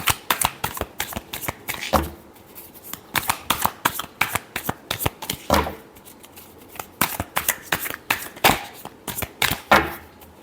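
Tarot cards are riffle-shuffled close up in quick bursts of crisp, fluttering clicks, with short pauses between rounds and a few soft thumps as the deck is squared.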